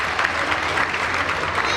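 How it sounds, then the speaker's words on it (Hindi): An audience at a large Hindi poetry gathering at the Red Fort breaks into loud, dense applause, a brief sustained wash of clapping with voices mixed in. "एक बार जोरदार मेरे सम्मान में तालियां बजा दीजिए"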